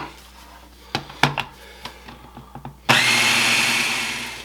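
An electric mixer whirs steadily as dough for apple cinnamon empanadas comes together, starting abruptly after a few scattered knocks and clatters and holding a loud, even drone.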